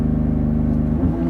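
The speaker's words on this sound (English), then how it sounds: "So let's see how the 296 does from a launch. Come to a stop, hold the brake, engage launch control" A Ferrari 296 GTB pulls away from a launch-control start, its engine a loud, steady low drone with a rising harmonic growl near the end, close and alone.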